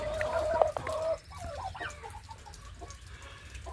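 Domestic turkeys call from a barnyard flock: a loud, warbling gobble rings out near the start and fades after about a second, followed by softer scattered clucks and rustling over a steady low background hum.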